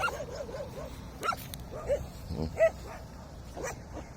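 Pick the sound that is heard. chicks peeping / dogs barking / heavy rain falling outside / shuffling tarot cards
dogs barking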